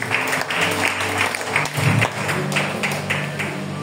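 A church congregation claps in praise during a sermon, a dense, steady burst of applause close by with rhythmic beats running through it.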